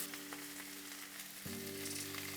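Shredded chicken frying with sliced onion in a pan for tinga, a steady soft sizzle with a faint hum underneath and a brief shift partway through as food settles.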